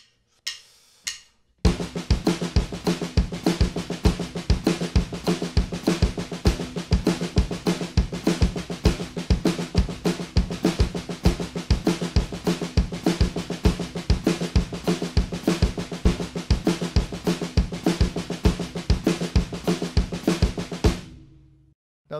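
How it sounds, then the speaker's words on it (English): A drum kit plays steady, fast paradiddle rudiments with a bass drum foot pattern underneath, an even driving stream of strokes for about twenty seconds, close and alone. "I added the bass drum part. It sounds like this."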